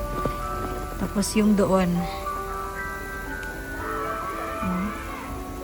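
Rain falls steadily in a winter forest in Japan, a constant soft hiss under a person talking, with whistling tones passing over it.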